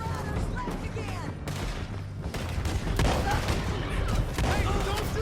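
Sustained volleys of gunfire from pursuing riders crackle and boom through a canyon chase in a game, dense and continuous, with voices shouting over the shooting.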